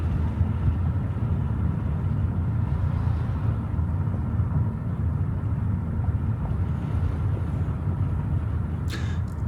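A car drives around Metcalfe, Mississippi, its steady low engine and road rumble continuous and fairly loud with some wind buffeting, and a brief sharp knock near the end.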